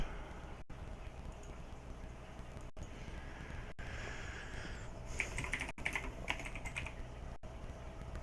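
Quiet computer keyboard typing runs through the whole stretch, with scattered keystrokes and a few short bursts of faster clicking over faint background noise.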